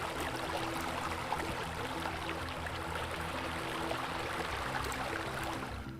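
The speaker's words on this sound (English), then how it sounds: "We will get a lot of water sounds as I get close to the pool" Water in a backyard swimming pool and spa rushes and splashes as a steady, loud, continuous wash with no pauses.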